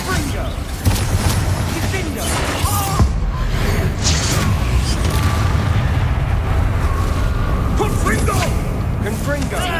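Confringo blasting spells explode in Hogwarts Legacy combat, giving repeated booming blasts and crackling impacts amid dense battle effects, with spoken voices over the noise.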